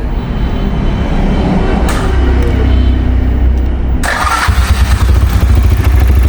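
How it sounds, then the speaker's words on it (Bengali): A Runner Deluxe 80cc motorcycle engine cranks on its electric starter and catches, then settles into a loud, close, steady idle with a rough low rumble. "তো বাইকটা যদি আমরা স্টার্ট দিয়ে দেখি সেক্ষেত্রে"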